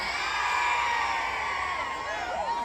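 A crowd at a crowd check cheers loudly, a sustained roar of shouts, whoops and high shrill screams that swells and holds for the whole stretch.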